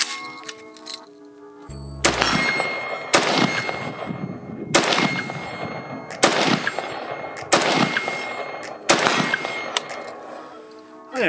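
Gunfire from 5.56 AK-pattern rifles, a Zastava M90 and a Mini Beryl, at an outdoor shooting session: about seven loud, sharp single shots spaced a second or so apart, each followed by a ringing echo.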